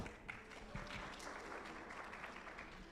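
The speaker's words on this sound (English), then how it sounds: "Can you please give Zoe a clap?" Faint, distant applause from an audience at a girls' summit in Nairobi, Kenya, clapping for Zoe in a soft, continuous wash with no voices standing out.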